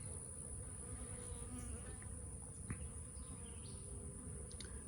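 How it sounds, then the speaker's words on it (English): A dense, steady buzz of many bees swarming close by, unbroken for the whole stretch with a few individual insects passing nearer. "took a lot of bees to fill it up"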